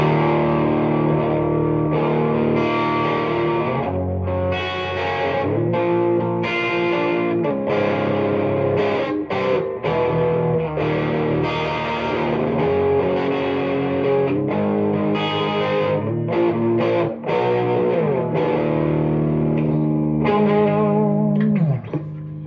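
Electric guitar played through a Music Man 112 Sixty Five combo amp with its reverb on, bluesy melodic lines with sustained ringing notes and a lush reverb tail, steady and fairly loud throughout, no talking.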